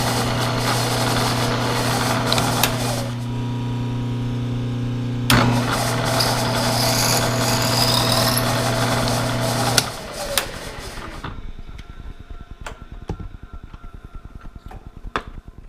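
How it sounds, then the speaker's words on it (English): A metal lathe motor runs with a steady mechanical hum and whine for several seconds while center drilling and drilling with a 1/4 inch bit, then winds down, leaving scattered clicks and light metallic taps. "The second side I will center drill and then drill 1/4 inch drill bit"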